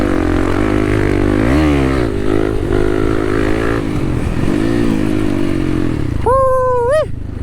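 Kawasaki KLX300 and KX250F dirt bikes riding off-road, a loud close engine roar rising and falling with throttle, then a sharp high rev near the end; no talk.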